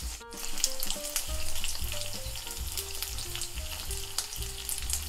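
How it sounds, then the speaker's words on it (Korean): Tofu pan-frying in plain cooking oil gives a steady close sizzle and crackle, with scraping clicks and clatter as the pieces are flipped in the pan. "두부를 한 4분 정도 붙여줬는데 한번 뒤집어 볼게요"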